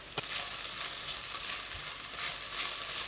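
Chopped garlic and onions sizzle in a hot pan for a French cassoulet, a steady soft crackling hiss with one sharp click of a utensil near the start.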